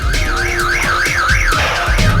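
A car alarm blares up close and loud, its warbling siren tone rising and falling rapidly and continuously, with no voices over it.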